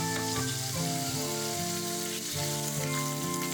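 An egg cooks in a pan alongside mostly fried bacon for a bacon sandwich, giving a steady, dense sizzle that runs throughout beneath prominent background music.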